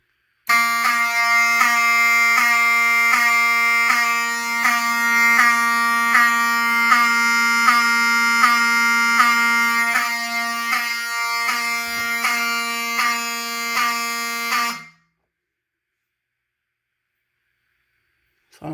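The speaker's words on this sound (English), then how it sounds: "There's the actual real alarm" An ESL 523CS alarm sounding during a test, a loud continuous harsh electronic buzzing tone with a rapid pulsing pattern that holds for about fourteen seconds, then cuts off abruptly into silence.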